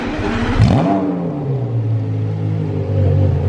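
Straight-piped Porsche Carrera GT engine fires up with a loud burst, then settles into a steady, close rumbling idle with a slight rise in revs near the end.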